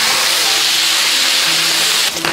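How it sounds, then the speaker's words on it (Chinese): Meat poured into hot oil in a wok sets off a loud, dense, continuous sizzle that fills the space close by, with a brief clatter near the end. "好锅上来呀，加点油就油下锅，再把肉一下倒下去"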